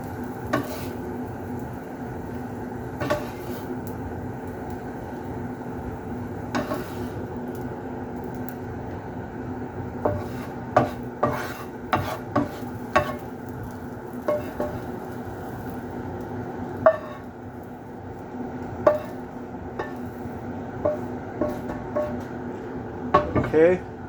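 Chorizo and egg mixture being stirred in a frying pan, with a low steady sizzle and repeated spoon scrapes and clinks against the pan and bowl as it is spooned out.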